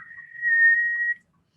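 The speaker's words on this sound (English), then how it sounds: "Does anybody know how to whistle?" A person whistles one steady, clear high note for just under a second during a children's circle time, then stops into quiet, with no talk.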